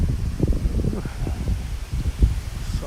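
Gusty wind in Tokyo rustles tree leaves and buffets the microphone, producing a loud, uneven low roar throughout.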